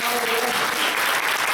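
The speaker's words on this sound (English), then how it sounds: "applause for Ivan." Audience applause at the close of a chemistry lecture by a Brookhaven National Laboratory researcher, a dense steady patter of clapping throughout with faint voices mixed in.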